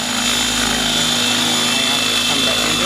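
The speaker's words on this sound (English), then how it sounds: "Upside down helicopter, take one." A helicopter being flipped to fly upside down roars loudly and steadily throughout, with a constant rotor and engine drone close by.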